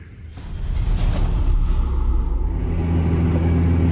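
A tractor pulling a Karat cultivator across a muddy field at night during sowing, a steady low engine rumble that swells in the first half-second and then holds loud and continuous, with no voices.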